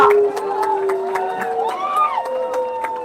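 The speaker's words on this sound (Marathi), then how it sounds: "टाळ्या वाजवा जरा" A protest-march crowd claps in a rapid, uneven burst, with cheers and shouts mixed in, loud and close throughout.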